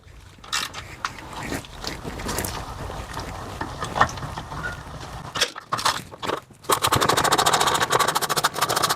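A power tool spins out the 8mm bolts on a Ford 6.7 Powerstroke diesel fuel filter housing, with loud rapid ratcheting bursts, short pauses and handling clatter between them.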